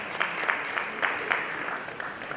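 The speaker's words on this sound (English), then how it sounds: "can we have a round of applause for our jury?" A room of people clapping for a competition jury at a business case event, moderate dense applause with a few sharper claps standing out, heard alone without talk.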